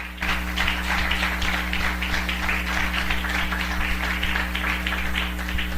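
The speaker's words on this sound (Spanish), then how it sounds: "Dele un aplauso al Señor." A church congregation claps for the Lord during a Spanish-language sermon. The applause is steady and dense, a continuous close patter over a low electrical hum, with no talking.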